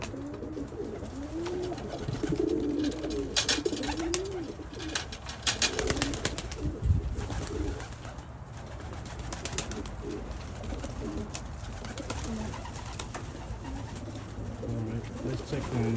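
Pet pigeons or doves, a hen and a cock kept in an outdoor loft, coo in low repeated rounds at close range over steady background noise, with some faint voice in places.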